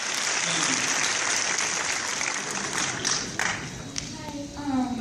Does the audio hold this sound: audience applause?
yes